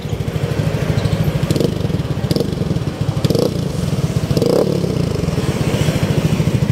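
A Yamaha Nmax scooter engine idles steadily after a restart, a close, loud, rapid putter with a few brief rattling bursts and no talk.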